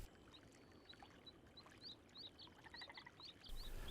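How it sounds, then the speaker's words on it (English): Perez's frogs call at a freshwater lake, a series of short, bright chirping notes repeating in an accelerating rhythm over faint background water sounds, moderately distant. "Frogs are gathering in great numbers."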